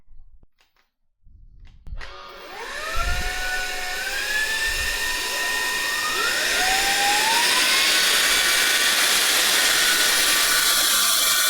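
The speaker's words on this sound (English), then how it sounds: "I'm going to put both vacuum cleaners to their maximum suction power" Two cordless vacuum cleaners, one 550-watt 45 kPa, whir up one after another at maximum suction, rising in pitch to a loud, high steady whine.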